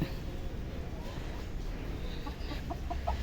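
Hens cluck near a long nesting coop where they have started laying eggs. Soft, broken clucks build toward the end over a steady low background rumble, with no talk.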